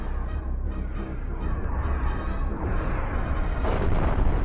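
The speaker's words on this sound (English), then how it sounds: "That is an overwhelming amount of cannon fire." Relentless cannon fire between small spaceships in the space combat game Cosmoteer, a dense rapid barrage of overlapping booms and bursts rolling on continuously and loudly, with no voices.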